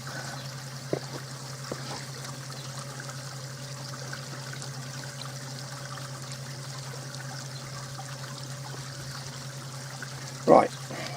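Water trickles steadily from the partly blocked spill-out of a DIY koi pond filter, a constant low wash under a steady electrical hum, with a couple of soft knocks and a short louder splash near the end.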